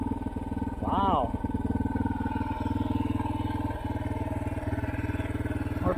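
An engine running at high RPM gives a steady, close, buzzing drone with a regular pulsing rhythm, while a person briefly talks over it near the start.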